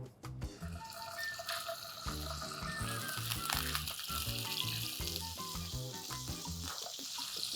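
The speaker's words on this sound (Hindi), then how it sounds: "चिकन विद बोन लिया है, ये जाएगा और घी के अंदर इसको मैं हल्का सा भून लूंगा" Bone-in chicken pieces sear in desi ghee for a curry base gravy, an even crackling sizzle running throughout beneath steady tonal background music, close up with no talking.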